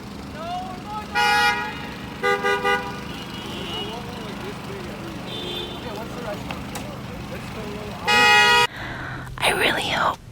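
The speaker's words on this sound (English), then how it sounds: "I really hope that car horn earlier didn't wake you or take you out of your REM cycle." A car horn honking on a New York City street, several short loud toots in a cluster, then longer blasts later, over steady traffic rumble with a voice talking quietly underneath.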